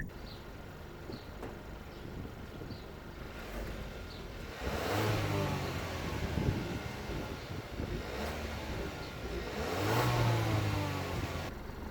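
A Kia Sportage 1.6 T-GDI engine and exhaust rev and growl through two rising accelerations, with a quieter idle-like stretch between them and at the start.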